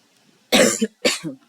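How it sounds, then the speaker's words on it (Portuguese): Two sharp coughs in quick succession, close and fairly loud, in an otherwise quiet room. "Tem que ter a tossida final"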